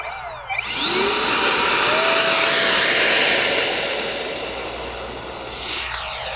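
An FMS Futura 64mm electric ducted-fan RC jet spools up to full throttle on its maiden flight, a loud, steady, rising whine that roars close, then slowly fades a little as the plane climbs away.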